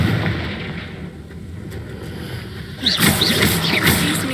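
A Confringo blasting spell in Hogwarts Legacy bursts into a loud explosive whoosh with crackling, rushing noise, rising out of a dense, rumbling background of combat sounds.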